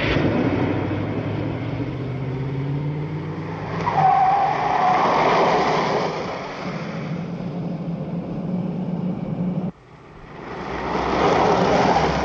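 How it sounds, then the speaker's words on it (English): A car drives toward the listener with tyres skidding and screeching, a loud, drawn-out roar and squeal that rises and swells, cuts off sharply, then surges again. "There's a car coming towards us."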